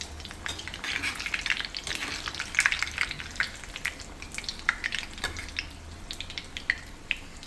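Potato bondas fry in hot oil, a busy crackling sizzle with quick spattering bursts, turned now and then with a utensil that clinks faintly against the pan, with no voices.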